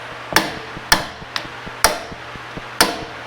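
A hammer strikes a seized part on a Honda TRX 125 ATV, giving five sharp metallic blows at an uneven, deliberate pace, one of them lighter, with short ringing decays.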